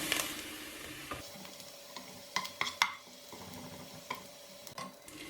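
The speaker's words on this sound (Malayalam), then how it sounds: "ക്യാരറ്റ് ചെറുതായിട്ട് ഫ്രൈ ആയിട്ടുണ്ട്." Carrots fry in ghee in a pan for egg biryani, giving a soft, steady sizzle with a few sharp clinks and scrapes of a utensil scattered through.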